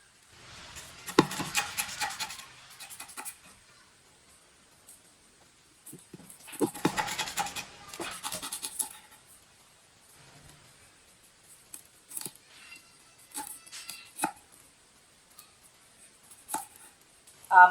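A knife slicing bitter gourd (karela) on a board, crisp cutting and scraping strokes in two clustered bursts followed by scattered single taps and clicks, close and fairly quiet.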